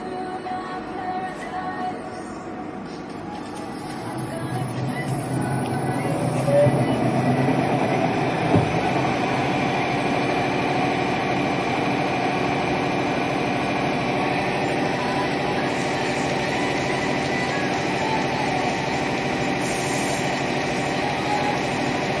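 A CLAAS combine's variator, under repair for balancing, spins on the running engine, giving a steady mechanical drone with a whine that swells after a few seconds and then holds evenly, loud and close, with no talk.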